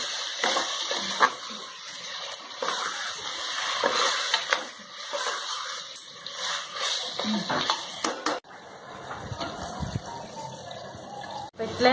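Mutton pieces tossed into masala paste in a pan, stirred and frying with a steady sizzle and occasional scrape of a spoon against metal, close and continuous for the whole stretch.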